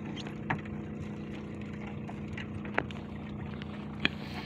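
A boat moves on open water with a steady low engine drone and washing noise, broken by a few sharp knocks against the hull.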